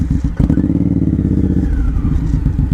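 A Suzuki M109R motorcycle revs hard close by as it runs up a loading ramp, its deep engine note rising and pulsing steadily with a mechanical clatter.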